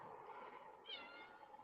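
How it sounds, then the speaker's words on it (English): A cat gives a single faint, short meow outdoors in a garden while someone digs with a shovel, a low steady background murmur running underneath. "Meowing."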